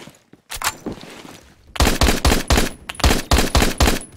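Rapid bursts of MSG 90 rifle fire in the video game Phantom Forces, a few spaced shots followed by a dense, loud volley of repeated cracks in quick rhythm.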